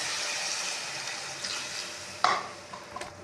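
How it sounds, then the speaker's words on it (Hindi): Water poured into a pan of frying potato and pea curry sets off a steady sizzle close up, with a brief louder hiss and a couple of small clinks near the end. "इसमें मैंने पानी ऐड कर दिया।"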